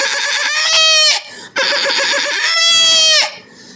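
A man imitates a goat's bleat with his voice, two long, loud, wavering nasal bleats separated by a brief pause, close and clear.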